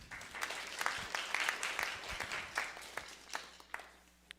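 Church congregation applauding during a Korean sermon, a steady wash of many hands clapping at moderate distance for several seconds, with scattered sharper claps and no speech over it.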